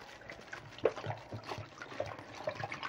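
Water poured into a bag of concentrated apricot paste to dissolve it, a faint, uneven trickling and sloshing with small splashes, heard close and quiet with no talking.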